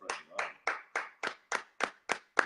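A group of people clap their hands in nine steady, evenly spaced claps, fairly close and clear, with no talking.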